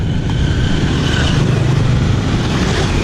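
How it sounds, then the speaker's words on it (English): Thousands of motorbikes stream across Long Bien Bridge in Hanoi, a loud, continuous roar of engines and tyres blending into one dense traffic wash with no single bike standing out. "Just like so many bikes whizzing past."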